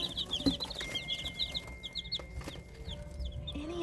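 Hens clucking softly in a coop alongside peeping from a couple of newly hatched chicks, a steady run of high chirps over low murmuring clucks, close and fairly quiet.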